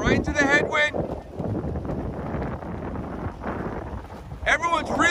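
Headwind gusts rumble and buffet the microphone aboard a women's varsity eight rowing shell, mixed with water and boat noise, while a voice talks over it at the start and end.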